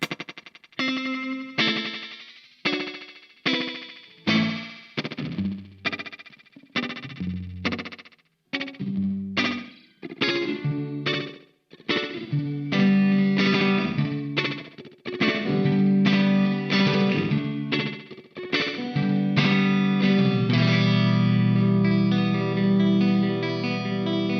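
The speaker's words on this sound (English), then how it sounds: "The thing I always like is short delay." An electric guitar plays choppy, repeated chords through the short, rapid delay of a Crazy Tube Circuits Sidekick Jr pedal, giving each strum a metallic, stuttering echo; no talking.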